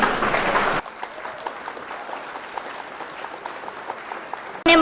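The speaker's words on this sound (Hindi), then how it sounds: "एक बार जोरदार तालियां हो जाएं।" Applause from a debate audience in an Indian classroom hall: loud clapping at first, then a thinner scatter of claps, and a louder swell again at the very end.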